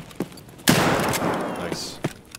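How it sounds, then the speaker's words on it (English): Gunfire from a scav in the video game Escape From Tarkov rings out as a loud burst of rapid shots over about a second, followed by a few sharper isolated cracks. "That's a scav that was shooting me."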